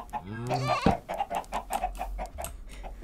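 Video game chickens cluck in quick, uneven bursts close by, with a voice heard briefly at the start.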